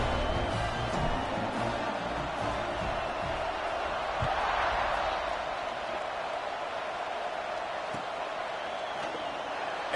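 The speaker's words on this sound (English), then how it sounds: "They're set to kick it off, and this crowd now ready to get behind them." Continuous stadium crowd roar in a college football video game just before kickoff in a Penn State versus Ole Miss game, a dense steady wash of noise with occasional faint thuds and swells, moderately loud and with no talk.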